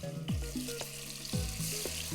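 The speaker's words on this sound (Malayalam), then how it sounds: "എണ്ണ ചൂടായി വെച്ച് നമ്മൾ ഈ പെരട്ടി വെച്ചേക്കുന്ന മീനുണ്ടല്ലോ അത് ഓരോന്നായിട്ട് വറുക്കുക" Marinated fish pieces shallow-fried in hot oil, a steady close sizzle and hiss with a few soft clinks over it.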